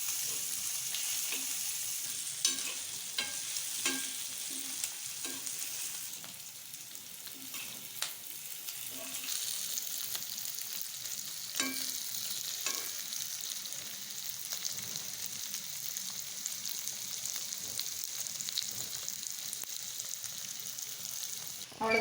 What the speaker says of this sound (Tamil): ஒன்றொன்று எடுத்து போட்டு பொரிச்சிக்கலாமுங்க.